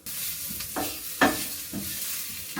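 Prawns with tomato puree sizzling in a pan, a steady soft frying hiss broken by several short scraping stirs of the utensil, close up with no voices.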